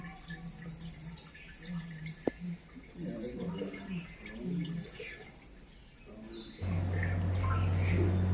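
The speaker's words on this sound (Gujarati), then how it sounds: "અહીં પાણી ચડાવી લીધું" Water is poured as an abhishek offering at the Bhutnath Shiva temple shrine in Bhuj, with soft drips and splashing close by, low voices in between and a steady hum near the end.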